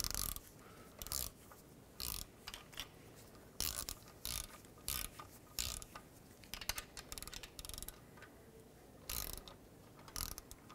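Ratchet clicking in short repeated bursts while going around the clutch pressure plate bolts on a 2006-2011 Honda Civic during a clutch kit replacement, close and fairly loud with brief pauses between turns.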